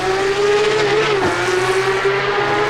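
In a video game Porsche Cup race at Brands Hatch, a car's engine whines at a steady pitch while its tires slide and squeal briefly midway, loud and close.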